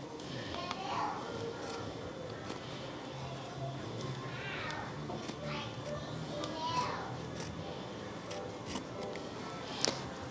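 Scissors snipping thread on an appliqué embroidery sweatshirt, a few faint, quick cuts scattered over quiet room tone with a voice and soft talk in the background.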